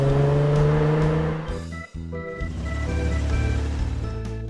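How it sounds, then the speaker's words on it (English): A race car engine drones and revs loudly, dipping briefly midway before rising again into a sustained roar, with layered tonal engine harmonics throughout. "Race car."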